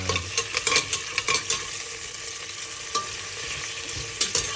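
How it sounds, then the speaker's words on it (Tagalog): Onions sautéing for Filipino sinigang: a steady close sizzle with repeated scrapes and stirring knocks of a utensil against the pan, alone without speech. "So gisa lang tayo ng sibuyas."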